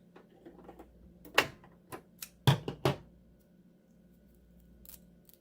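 Sharp scissors snip through sewing thread in a few crisp, close cuts, several clustered clicks coming close together against a quiet room with no talking.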